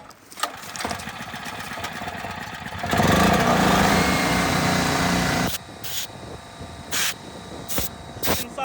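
A loud burst of compressed air blasting debris off the clutch of a STIHL MS390 chainsaw, a steady hiss lasting a few seconds, followed by several shorter air bursts.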